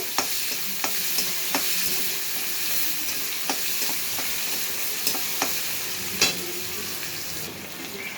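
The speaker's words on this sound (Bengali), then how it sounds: "পেঁয়াজ কুচিটা দিয়ে দেবো। দিয়ে পেঁয়াজটা ভাজা ভাজা হতে দেব।" Chopped onion and crushed garlic fry in hot oil with a steady, close sizzle, broken by sharp clicks and taps as a spoon stirs through the pan now and then.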